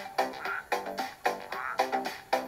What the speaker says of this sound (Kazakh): Бақа бақылдайды,